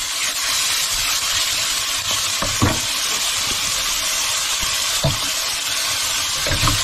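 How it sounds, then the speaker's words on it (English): A whiting, calamari and onion stir fry sizzles loudly and steadily in a hot pan, with occasional utensil scrapes and knocks as it is stirred, and no talking. "Mix it in with the onion, not the onion, whiting, calamari stir fry."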